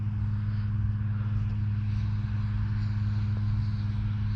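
A small balsa-and-pine Vmar Vstick RC plane with a 10x4.5 APC propeller drones steadily overhead, a constant buzzing engine tone held at an even level with no talking.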